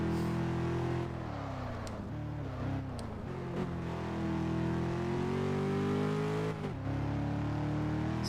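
An Aston Martin racing in Test Drive Unlimited 2, its engine note rising and dipping as it accelerates and shifts, a loud steady drone carrying through the whole stretch.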